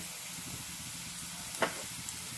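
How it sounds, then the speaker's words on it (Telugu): Green chillies and onions fry in a pan for a methi fry, giving a steady, soft sizzle throughout, with a brief stir or clink near the middle. "పచ్చిమిర్చి ఉల్లిపాయలన్నీ బాగా ఫ్రై అయ్యాయండి"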